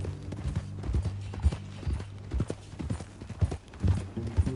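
Horse hooves clip-clop in a steady walking rhythm in the Red Dead Redemption 2 video game, close and fairly loud, with a faint low hum underneath and brief moments of voice.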